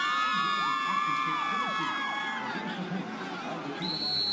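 A football crowd at Tucker Stadium, cheering for the Milan Bulldogs at a state championship game, roars in a steady, loud wash of shouts and whoops, with whistling tones riding over the dense crowd noise.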